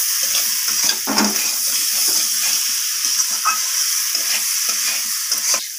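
Curry masala being stirred and sautéed in a pan for a cauliflower and chicken egg dish, a steady soft sizzle with repeated scraping strokes of the spoon, close and continuous.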